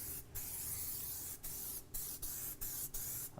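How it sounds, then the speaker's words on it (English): Several short hissing bursts from an aerosol can of wheel cleaner, sputtering in quick succession with brief pauses between them, close by. "spray, evenly applied."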